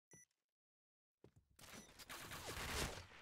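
Gunfire bursts in the Point Blank video game, a rapid clattering volley building over the last second and a half and ending in a sharp loud shot, after near silence.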